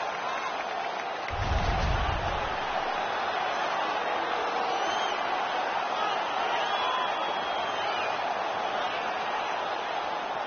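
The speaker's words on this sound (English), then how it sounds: "The crowd is so pumped right now." Crowd roar from a hockey arena in the video game NHL 18, a steady, dense wash of cheering that holds evenly throughout, with a brief low thump near the start.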